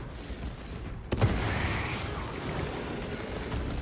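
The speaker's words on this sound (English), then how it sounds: "Deploying frag grenade." Frag grenade explosion in a Warhammer video game: after a quieter stretch of battle noise, a sudden loud blast erupts and gives way to sustained rumbling combat din.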